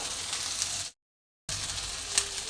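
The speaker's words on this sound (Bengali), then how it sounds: "তো দেখো বন্ধুরা পেঁয়াজের সাথে আমার কড়াইশুঁটিটা একটু ভাজা হচ্ছে।" Peas fry with onion in a pan, giving a steady, moderate sizzle interrupted by a brief silent gap and a faint clink near the end, with no talk.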